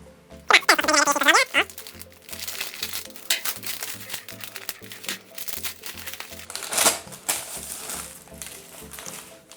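A plastic-wrapped LEGO magazine bundle crinkles and tears loudly up close as it is opened, followed by continued rustling and handling noises with a voice speaking intermittently in Polish.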